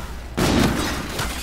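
A single pistol shot from a first-person shooter video game, a loud sharp crack followed by a short decaying burst of noise, heard up close with no talk.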